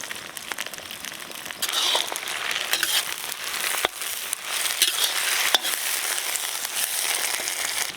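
Native curry leaves crackling in hot oil in a pan while a goat head meat gravy is cooked, a steady bright frying hiss with crisp popping and spattering throughout, loud and close.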